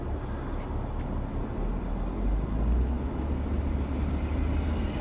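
A 2003 BMW 325i cruises along the road with a steady low engine and tyre rumble from inside the cabin, swelling slightly in the middle before settling back to an even drone.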